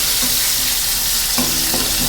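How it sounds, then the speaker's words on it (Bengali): Food sizzling loudly in a pan during cooking of a Bengali boal fish roe curry, with a continuous hiss and a couple of soft scraping stirs near the middle and end. "একটু নাড়াচাড়া করে নেব।"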